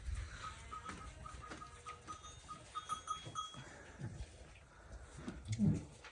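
Newborn lambs, a few days old and including twins, on a farm, giving faint, scattered bleats among light clinks and rustles, with a louder bleat near the end.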